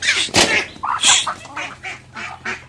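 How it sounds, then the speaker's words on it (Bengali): Several ducks quack in quick, uneven bursts, close and fairly loud, with short gaps between the calls. "হাঁসগুলা দেখ কয়দিনে কি বড় হয়ে গেল হাঁসগুলা।"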